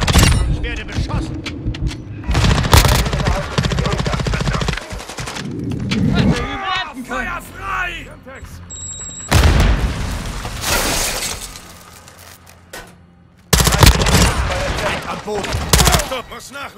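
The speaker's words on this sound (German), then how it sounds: "ich werde beschossen." Machine gun fire in a Call of Duty: Modern Warfare 2 multiplayer match on the El Asilo map, loud rapid bursts of automatic shots broken by pauses, with in-game voice callouts and other effects between bursts.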